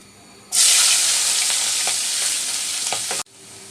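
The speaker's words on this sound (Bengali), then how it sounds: "এই তো পেঁয়াজগুলো ভাজা হয়ে গেছে" Thinly sliced onions with a pinch of turmeric frying in a pan: a loud, bright sizzle starts abruptly, holds steady for nearly three seconds with a few stirring clicks, then cuts off sharply.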